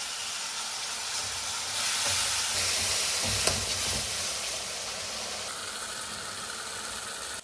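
Curry with mustard-poppy paste cooking in a pan, a continuous close sizzle and bubbling with a brief swell of louder frying in the middle and a few faint stirring clanks, no talk.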